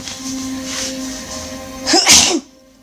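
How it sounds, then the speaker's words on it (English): A single loud sneeze close by, preceded by a short hum-like buildup and ending abruptly in quiet. "that was a sneeze, excuse me."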